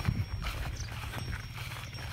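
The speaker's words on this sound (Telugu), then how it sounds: "ఎవరి మంద ఇది ఎక్కడి మంద ఆవుల మంద ఇది గోవుల మంద" Hooves clop and shuffle steadily on hard ground as a herd of cows walks past in a village, a loose uneven rhythm of thuds over a low rumble.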